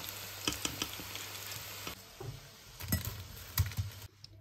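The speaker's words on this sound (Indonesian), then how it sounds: "Sekarang kita goreng si nugget." Chicken nuggets deep frying in hot oil give a steady sizzle, with occasional clinks and stirring knocks of utensils against the pan, close and fairly quiet.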